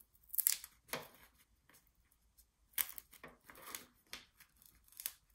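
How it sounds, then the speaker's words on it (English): Crafter's tape being pulled off a notepad holder project: a few short, sharp ripping and peeling bursts with quiet gaps between, close and fairly soft. "now I'm just gonna take my tape off"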